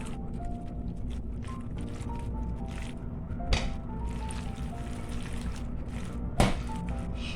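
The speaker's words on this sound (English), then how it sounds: "So we will mix this to blend." Cooked spaghetti noodles being mixed with an egg binder for spaghetti pie, making soft wet squishing and sticky stirring sounds, with two sharper clinks or taps near the middle and end.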